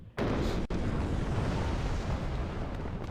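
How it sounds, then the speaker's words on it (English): Cluster mortar explosions in the video game Warno: a sudden loud blast opens into a sustained, rumbling wash of overlapping detonations that roars on for several seconds, with one sharp crack partway through. "the cluster mortar quickly deals with us"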